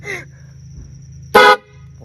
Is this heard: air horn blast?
yes